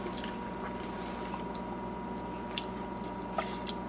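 Chef tasting béchamel sauce from a spoon: soft close-up mouth sounds, light smacking and wet chewing clicks scattered over a low steady kitchen hum, with no talking.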